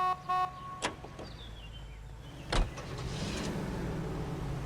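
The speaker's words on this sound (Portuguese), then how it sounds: "Mas eu tô afinzando de dirigir um conversível." A convertible Lincoln in the video game L.A. Noire: a door clunks shut and the engine starts, then settles into a low, steady idle and driving hum.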